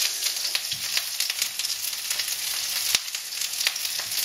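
Shallots sizzle and crackle in a hot wok, a dense steady hiss with scattered pops, close and alone with no voices.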